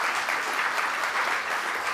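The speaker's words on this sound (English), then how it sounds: "Yeah, you should clap for him." Steady applause from an audience at a political talk show taping, dense and continuous for the full two seconds with no break.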